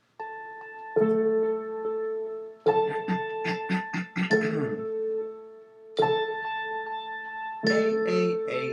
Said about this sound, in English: I took the guitar, my propane tank, my little glockenspiel bell thing, and the right hand of the piano